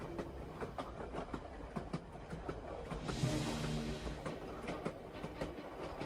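A train slowly crossing the Dead Horse Gulch steel bridge on a mountain pass railway, with soft rhythmic clicks of wheels on rails and a brief swell of rumble midway, fairly faint and with no talk.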